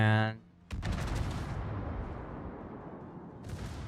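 Naval guns boom in a World of Warships battle as ships including the cruiser Stalingrad trade fire: a sharp opening blast, then a dense rolling rumble of salvos that stays loud and sustained.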